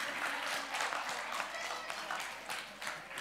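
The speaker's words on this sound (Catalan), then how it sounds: "Un bon aplaudiment per ells." Steady applause from an audience at a closing event, a dense unbroken patter of clapping hands lasting throughout, fairly even in loudness with no voices standing out.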